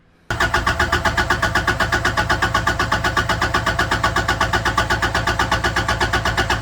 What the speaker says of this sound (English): hearing the motor crank and not start